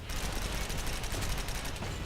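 Rapid gunfire from an inaccurate weapon in the online shooter GunZ 2, a dense steady stream of shots running throughout at moderate loudness with no pauses.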